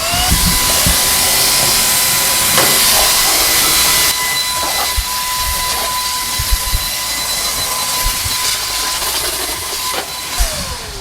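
Vaclife VL722 cordless stick vacuum runs with its corner brush head attached, a steady loud broadband whoosh with a faint whine that drops a little in level partway through, then continues with small knocks and bumps.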